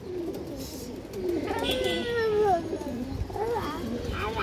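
Domestic pigeons in a Bengali breeder's loft coo in soft, low, rolling phrases, near and moderately loud, with someone talking over them.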